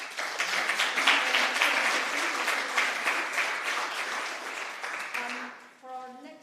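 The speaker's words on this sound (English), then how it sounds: "Let's give Bob a round of applause" An audience at a climate and ESG legal risk management summit applauds a speaker: steady, dense clapping from a crowd that holds for several seconds and then thins out.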